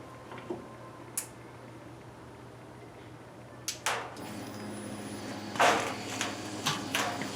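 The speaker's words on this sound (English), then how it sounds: "what you hear is the fuel pump cutting on, and that's what it does for 2 to 3 seconds" A fuel pump on a Holley Sniper EFI setup with a Dual Sync distributor, on an engine that won't idle, cuts on with a low steady hum amid scattered clicks and clunks, close and moderately loud.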